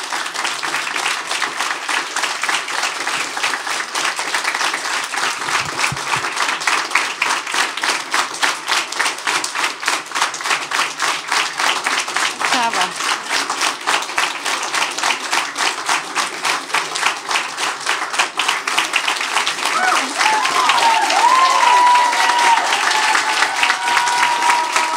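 Sustained audience applause at a school New Year concert, dense steady clapping from a large crowd continuing for the whole stretch and swelling slightly louder near the end.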